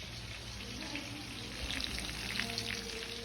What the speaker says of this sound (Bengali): এই পাশে এখন রাইস ফ্রাই করবো আমি এখন ক্যাপসিকাম দিয়ে